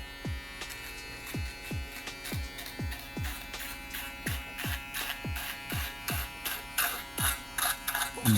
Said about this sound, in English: The foil shaver. Now, since we only want to remove stubble